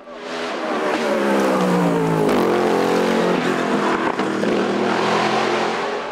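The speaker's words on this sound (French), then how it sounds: "avec la Norma M20 FC animée par le 4 litres BMW" Norma M20 FC race car powered by a 4-litre BMW engine at a hillclimb event, roaring loudly and steadily up through the gears with rising engine pitch, close by and dominant for the whole stretch.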